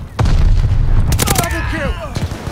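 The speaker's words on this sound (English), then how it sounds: "Incoming grenade." A grenade explodes in the Call of Duty Vanguard video game, a loud close boom with a rumbling tail and a few sharp following bangs. Game announcer voices and effects sit under the blast.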